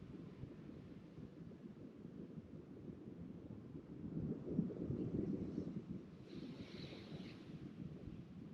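Soft wind blows outdoors as a faint, steady hiss and rumble, swelling gently for a few seconds before easing back, with no voices.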